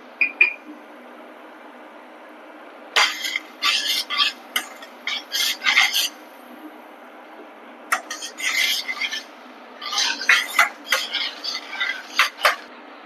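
Yogurt being stirred into a paneer gravy masala in a pan, with bursts of spoon scraping and clinking against the metal separated by quiet pauses.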